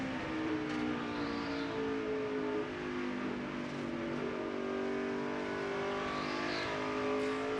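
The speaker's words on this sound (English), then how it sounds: "But listen how much he's out of the throttle in 3 and 4." NASCAR Nationwide race car at Phoenix during practice, its engine droning steadily and loudly from an onboard perspective, with rising pitch sweeps as the driver eases back onto the throttle through the corners.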